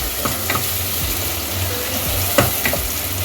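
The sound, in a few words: onions frying with spices until golden brown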